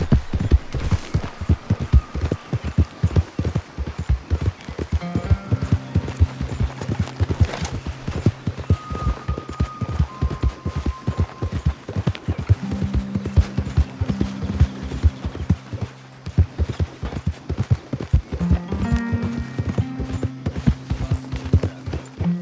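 Hooves of a galloping horse in the Red Dead Redemption 2 video game pound in a fast, steady rhythm, loud and close, over a low background hum and a few brief tonal sounds.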